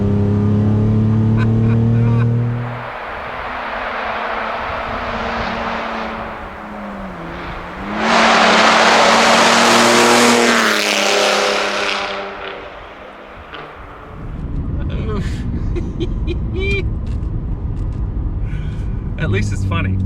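Decatted 2019 Ford Raptor, tuned to about 550 crank horsepower, with a very loud exhaust revving hard, rising to a roaring peak mid-clip before settling back to a rumbling idle, with people talking over it.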